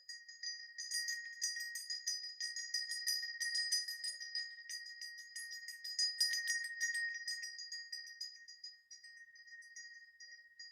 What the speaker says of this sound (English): back home to the body with the sound of a bell said to bring wandering spirits back